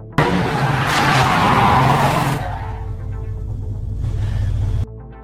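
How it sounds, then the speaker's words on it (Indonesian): A car skids across an open airfield during driving practice, a loud, broad screech and rumble building for about two seconds, then easing into a steadier engine drone before cutting off abruptly. "John mengarah ke lapangan bandara, untuk melatih skill mengendarai mobilnya"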